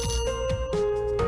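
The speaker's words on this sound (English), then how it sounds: "The ringing sound." Steady electronic ringing tone in a video game, sustained and fairly loud throughout with a slight pitch shift partway, over a low background hum.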